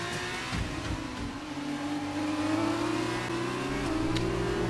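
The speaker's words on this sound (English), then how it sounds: "So we've had a turbocharger failure" A race car engine suffering a turbocharger failure in the F1 2019 video game gives a continuous, loud drone whose pitch climbs slowly. It sounds close and steady, with no talk over it.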